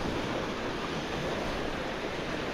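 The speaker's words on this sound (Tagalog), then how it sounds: "Ito dito guys, dagat na ito dito." Sea waves wash steadily onto a beach at Aplaya Dawis in Digos City, a dense, loud, unbroken surf roar with some wind buffeting the microphone and no voices.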